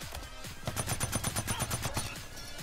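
A heavy assault rifle in Blacklight Retribution fires a rapid burst of about a dozen evenly spaced, loud, close shots in under two seconds, with game ambience around it.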